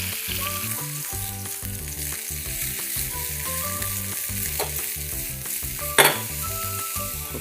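Ingredients sautéing in olive oil in a pan give a steady, close sizzle over background music, with one sharp utensil clink near the end.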